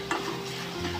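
Tomato masala with asafoetida sizzles in oil for a mini corn masala, giving a steady close crackle with a faint stirring scrape and no speech.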